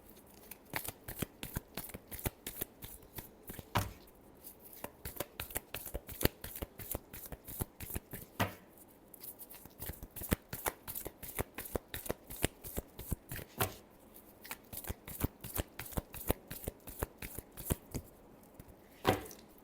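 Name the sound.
shuffling tarot cards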